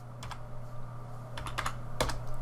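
Computer keyboard tapped a few times in short clusters, with a firmer final keystroke like an Enter press, close by over a steady low hum.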